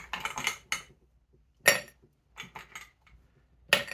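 Ice clatters into a cocktail mixing jar from oversized ice tongs: a burst of clinking, then several sharp, close knocks and rattles separated by short silences.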